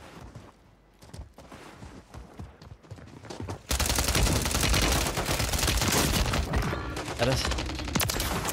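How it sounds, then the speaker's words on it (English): Gunfire in Call of Duty Warzone on Ashika Island: scattered, fainter shots and clicks at first, then a sudden loud, dense burst of rapid automatic fire that keeps going to the end, with a brief spoken remark. "Someone is shooting."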